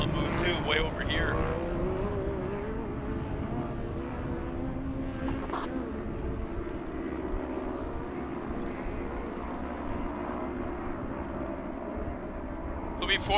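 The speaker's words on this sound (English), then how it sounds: "Wow, these cars are actually making the ground move too" Short course race cars roar around a dirt track in a main event, a loud continuous wash of engine noise with rising and falling passes, under a commentator's voice.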